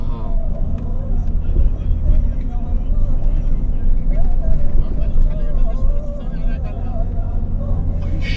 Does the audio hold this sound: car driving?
yes